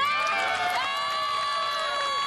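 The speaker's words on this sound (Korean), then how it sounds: "박수 환호 주세요!" A concert audience applauding and cheering loudly on cue, many voices whooping and shouting over continuous clapping that fills the whole moment.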